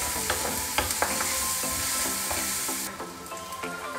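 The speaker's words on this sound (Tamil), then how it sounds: "தக்காளின்னு வெங்காயம்லாம் நல்லா வதங்கட்டும்." Small onions and ginger garlic paste sauté in a pan for a spleen fry, a dense close sizzle with repeated scraping stirs, the frying hiss easing a little toward the end, no voices.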